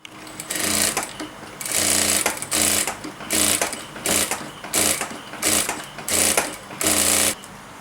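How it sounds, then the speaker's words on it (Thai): A sewing machine stitches fabric for a small tulip keychain in rapid whirring bursts, about eight runs separated by short pauses, close and loud. "จากนั้นเราก็จะมาเย็บกันนะคะ"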